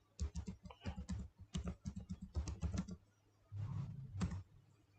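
Linux commands typed on a computer keyboard, with quick bursts of close, crisp key clicks, short pauses in between, and a heavier thump like the enter key near the end.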